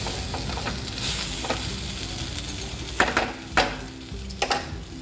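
Fried semolina is added to a hot pan for sujir pulao, with a continuous sizzle and several sharp clicks and scrapes of stirring against the pan. No voices are heard.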